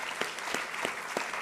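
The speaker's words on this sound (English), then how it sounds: "please give a huge round of applause to all our panelists" Audience applause for the panelists at a University of Auckland evening event, a steady wash of clapping from a crowd with a few sharper bursts standing out, moderately loud and without voices.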